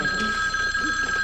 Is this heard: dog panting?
no